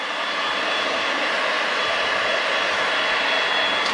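Heat gun warming covering film around a model aircraft part, a loud, steady broadband blowing roar held without pause for the whole stretch.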